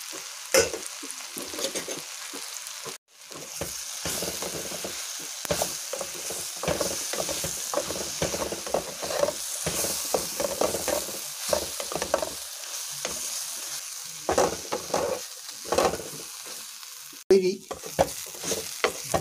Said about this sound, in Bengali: পাউরুটিটাকে সেঁকে ভালো করে পিস করে কাটা আছে। এবার আমি এটা একটু মিশিয়ে দেব।